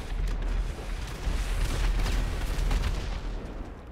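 Weapon fire and RPG shots fill a first-person video game match on a mega ramp, a dense, continuous booming roar with crackling bursts throughout and no clear pauses.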